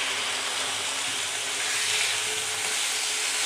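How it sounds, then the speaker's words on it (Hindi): Half a kilo of goat liver fries with garlic in a hot pan, giving a loud, dense, unbroken sizzle that stays even from start to finish. "लहसुन को थोड़ा सा भूनने के बाद हम इसमें आधा किलो बकरे की कलेजी है वो डाल देंगे।"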